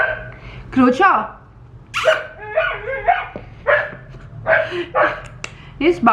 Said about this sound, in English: He's barking too much.